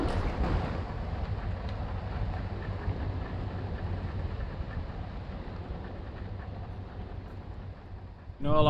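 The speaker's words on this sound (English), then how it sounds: "So we can't turn off the engine." A fishing boat's engine left running while out on the water: a steady, moderately loud low rumble that drones on without letup for several seconds, with a sharper rise in level right at the end.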